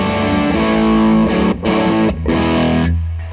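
Electric guitar through a Shipwreck distortion pedal, playing loud, gainy sustained chords with a couple of brief gaps between strums before the final chord rings out and fades.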